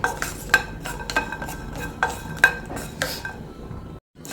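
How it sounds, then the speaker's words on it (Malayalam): Asafoetida roasting in a pan for rasam powder, with a utensil stirring and scraping against the metal in repeated clinks and scrapes at close range, no one talking. "കായ ഒന്ന് സാവധാനത്തിൽ മൂത്ത് വരുത്തോളൂ നമുക്ക് ഇളക്കി കൊടുക്കാം"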